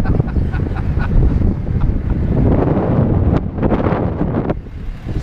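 Strong wind buffets the microphone outdoors near Carlsbad Cavern, a loud continuous low rumble with gusting swells and no talking.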